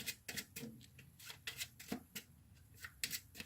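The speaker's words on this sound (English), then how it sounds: "I'm going to shuffle them first." Playing cards being shuffled by hand, a series of quick riffling and slapping bursts at an uneven rhythm, close and fairly quiet.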